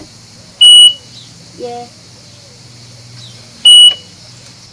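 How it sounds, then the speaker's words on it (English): A boat's engine panel gives a sharp electronic beep as the key is turned, two loud short beeps about three seconds apart, with a quiet word spoken between them and low engine-room hum underneath. "So it goes beep and then you turn it."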